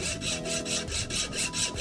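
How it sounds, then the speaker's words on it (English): A hacksaw makes a light cut in a lightsaber blade tube, about eight even back-and-forth rasping strokes in quick rhythm, close and clear with no talk. "We'll just get our hacksaw. We'll just make a light cut at first."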